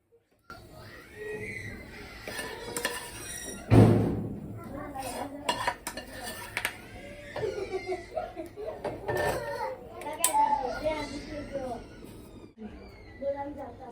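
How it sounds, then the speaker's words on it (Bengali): Tomato and lentil mash scraped from a pot into a bowl, with a loud clank of utensil on metal followed by repeated scraping and clinking, while someone talks throughout. "আমার ভর্তাটা বানানো হয়ে গেছে এখন আমি বাটির ভিতর ঢেলে দিচ্ছি"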